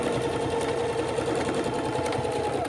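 A sewing machine stitches fabric for a quick home sewing project, its steady, rapid mechanical whir running continuously and fairly loud throughout with no pause.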